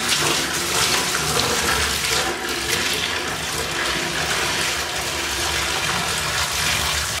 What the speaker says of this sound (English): you just want to add a little bit of water